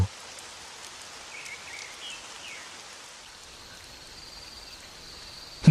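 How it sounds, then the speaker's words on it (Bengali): Steady rain falls outdoors during a thunderstorm, a soft continuous patter and hiss at low level, with faint insect-like chirps mixed in and no thunder standing out. "যে বৃষ্টি শুরু হয়েছে"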